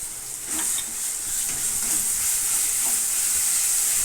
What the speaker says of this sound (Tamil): இந்த பச்சை வாடை போகிற வரைக்கும் கொஞ்சம் வதக்கணும்